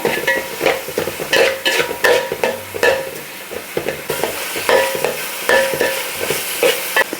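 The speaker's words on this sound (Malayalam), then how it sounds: "ഇതന്നെ നന്നായിട്ടൊന്ന് ഇളക്കി കൊടുക്കാം നല്ല വാടി വരട്ടെ" Crab roast with chopped ingredients being stirred in a frying pan: a steady sizzle under repeated scraping strokes of a spoon against the pan, close and fairly loud.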